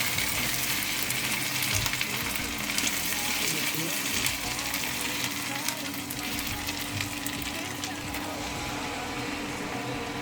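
Boiled chickpeas tipped into a pan of fried potatoes, giving a steady, dense sizzle and frying hiss with faint stirring, continuous and close throughout.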